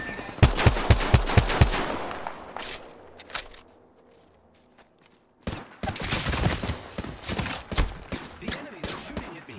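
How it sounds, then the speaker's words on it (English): Bursts of enemy gunfire in Apex Legends, a rapid volley of close, loud shots at the start, a brief lull with scattered pops, then renewed sustained firing mixed with footsteps. "The enemy is shooting at me."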